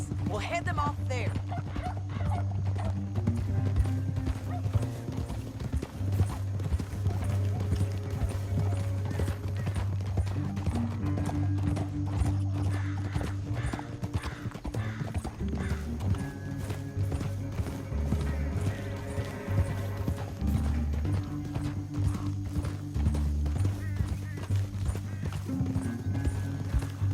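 Horses in the Red Dead Redemption 2 video game, hooves clip-clopping steadily over a low droning music bed, with occasional neighs and whinnies mixed in at moderate distance.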